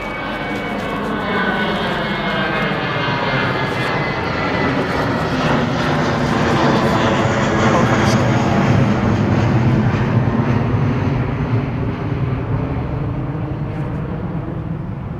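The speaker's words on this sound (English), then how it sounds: "here comes that 777-300, is it?" A Boeing 777-300 at London Heathrow gives a sustained, loud jet roar lasting the whole stretch, swelling toward the middle and slowly easing, with no talk over it.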